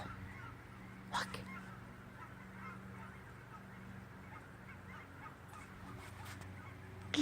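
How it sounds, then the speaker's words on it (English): Geese honking faintly in the distance over a low steady hum in a back yard, a few scattered calls standing out, especially near the start and toward the end. "Geese. They're on the way over to the park."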